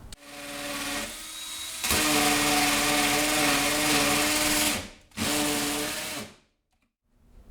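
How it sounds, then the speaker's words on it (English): A hammer drill bores into a concrete block wall with a loud, steady grinding whir in three bursts, the middle one longest, briefly dropping out before a final run and then stopping. "Set your drill on hammer."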